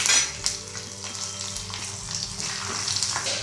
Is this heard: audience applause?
no